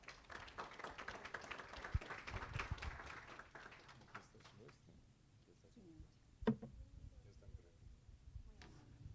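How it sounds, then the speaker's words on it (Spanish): An audience claps for a speaker introduced at a panel discussion, a dense patter of hands that fades out after a few seconds, leaving a quiet room with a few faint taps and a low voice. "para quien pido un aplauso, por favor"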